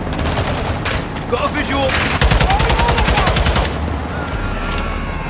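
Rapid automatic gunfire in Call of Duty MW2 rattles in repeated bursts, loud and close, with a player's voice talking over the shots.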